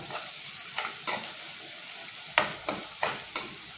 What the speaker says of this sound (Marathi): हे बघा आला लसूणची पेस्ट, हे सुद्धा आपल्याला असं परतायचं आहे 5 मिनिटं